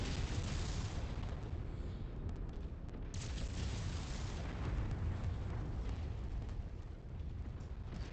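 Heavy, continuous low rumble of artillery fire and explosions on a battlefield in the mech combat video game MechWarrior 5: Mercenaries, loud and steady with no pauses and no talking.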